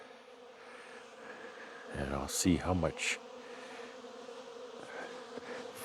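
Steady buzzing of bees fills the background, with a brief spoken phrase partway through and some faint higher chirps over the hum.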